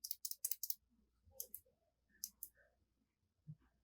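Gateron Blue switches on a Royal Kludge RK100 mechanical keyboard click sharply in close, loud bursts, a quick run of four clicks followed by scattered pairs and single presses.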